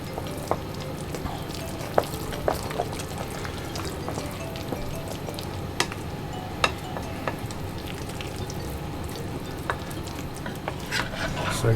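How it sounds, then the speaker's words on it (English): Grated cheese being stirred into a tortilla filling mixture, a continuous wet scraping and churning close by, with scattered sharp clicks of the spoon against the pan. "I'm going to give that a good stir in."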